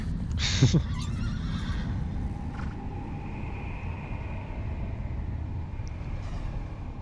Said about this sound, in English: maybe Aggro is Mono's horse.